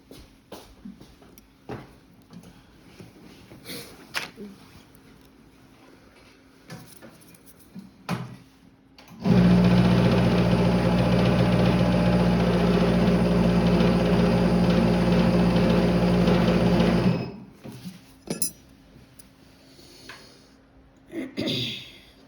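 Dental amalgam capsule mixer running in a clinic, a loud, steady mechanical buzzing hum that lasts about eight seconds and then cuts off, with quiet handling noises before and after.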